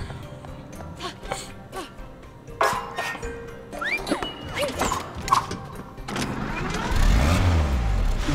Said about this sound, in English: Dude, that sounds like a motorcycle.